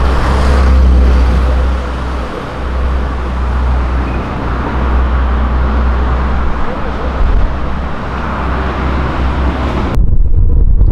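A Chevrolet Onix Turbo fitted with a power chip drives at night, with a steady engine drone and road and wind roar filling the cabin while occupants talk.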